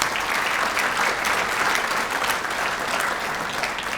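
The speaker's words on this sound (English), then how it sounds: "give them a round of applause for the great work that they've done" Sustained, dense audience applause fills a hall at the 70th anniversary event of the Islamic Society of South Australia, steady and fairly loud throughout with no voices over it.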